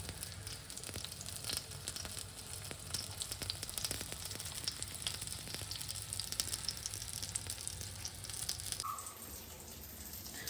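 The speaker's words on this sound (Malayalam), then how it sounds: "നന്നായിട്ട് ഫ്രൈ ആവുന്നുണ്ട്." Pieces of ivy gourd (kovakka) fry in a pan, giving a steady, dense sizzle with fine crackling throughout, heard close up and alone.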